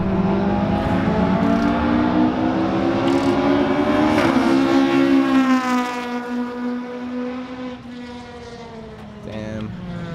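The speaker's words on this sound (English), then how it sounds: "Boys, there's some drifting going on." Car engines at a drift event rev high and whine, their pitch climbing and then holding before easing off, loud and close, with voices talking over them.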